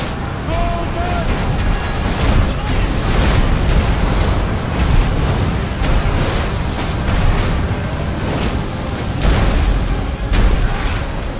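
Catapults fire and projectiles explode in a Roman battle in Ryse: Son of Rome, a dense, loud, continuous rumble of booms and crashes with shouting voices mixed into the chaotic battle noise.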